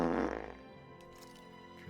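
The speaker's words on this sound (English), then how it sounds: "So I've got them farts going on." A single short, low fart plays as a sound effect during a Tales of Arise game stream, moderately loud at first and then fading to a quiet tail.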